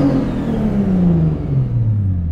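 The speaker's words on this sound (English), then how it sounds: "Whoop, I revved it." A BMW 335i's single-turbo engine revs and then winds down, its pitch gliding steadily lower over a loud rumbling drone up close.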